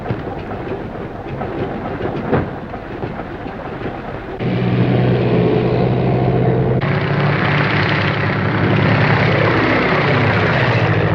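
A government plane's engine drones loud and steady, shifting to a deeper, heavier roar partway through as it runs up or draws near, with no voices over it.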